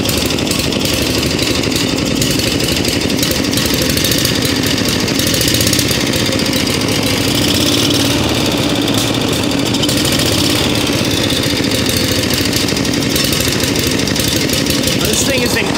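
A rare Harley-Davidson motorcycle engine idles after a kick start, a loud, steady putting rumble that continues evenly and close up throughout.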